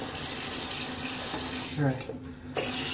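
A tap runs cold water steadily into a bathroom sink during a shave, a continuous close hiss that briefly dips near the end, with someone saying a word over it.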